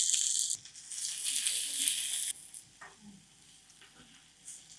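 Onions fry in oil in a pan, with a bright, loud sizzle for the first couple of seconds that then drops to a quieter crackle and a few light scrapes.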